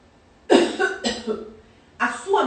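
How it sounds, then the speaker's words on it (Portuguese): A person coughing during an abdominal check for diastasis: three close, loud, abrupt coughs, the first two quickly linked and the third after a short pause, with no talk over them. "E aí, você vai tossir."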